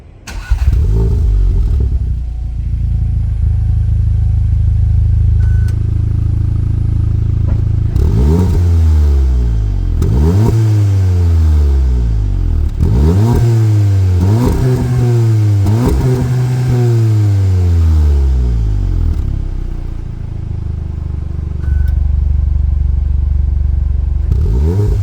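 A 2019 VW Golf R engine revving from inside the cabin, with repeated throttle blips rising and falling in a steady rhythm over a loud, continuous engine drone, with no talk.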